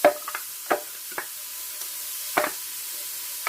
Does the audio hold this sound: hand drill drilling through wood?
no